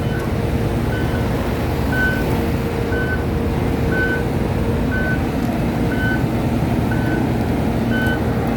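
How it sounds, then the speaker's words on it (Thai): An XCMG XS263S vibratory road roller, a 28-ton double-drive-axle compactor working with a road milling machine, rumbles steadily while its reversing alarm beeps at an even pace, about once per second, throughout. "ก็เป็นรถบดสั่นสะเทือนที่ค่อนข้างจะแรงกดเยอะนะครับ รถบดสั่นสะเทือนขับเคลื่อนสองเพลา"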